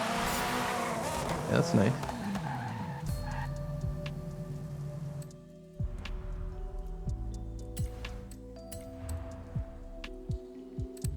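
Mercedes AMG car driving and skidding in GTA NoPixel, with a revving engine, a squealing tire slide early on, then a quieter stretch with ticking clicks while people talk.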